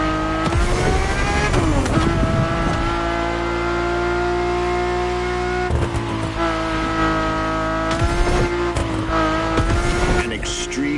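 A Ferrari with a carbon fiber monocoque chassis racing in Crew Motorfest, its engine loud and close, revving high and shifting repeatedly with sharp gear changes and brief drops in pitch.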